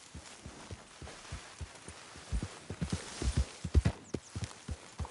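A horse's hooves clip-clop in Red Dead Redemption 2, soft at first and then closer and louder in a quickening, uneven rhythm of thuds over faint ambience.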